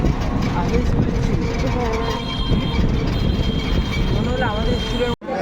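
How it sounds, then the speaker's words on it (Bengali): Steady low rumble of a moving train, with people talking over it throughout. "আমরা এখন ট্রেনে করে যাচ্ছি"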